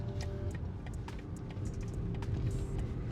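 A BMW engine under light throttle in Comfort Plus mode gives a low, steady rumble heard from inside the moving car, with faint clicks and road noise over it and no voices.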